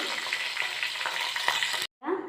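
Loud crackling sizzle of dried red chillies, garlic cloves, curry leaves and tempering seeds frying in hot oil, steady with small pops, cutting off abruptly before a brief softer hiss resumes.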